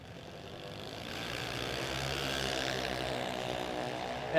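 A racing engine at a no-box drag race shootout, revved by the driver on the throttle, a buzzing drone that swells gradually and holds steady from a moderate distance.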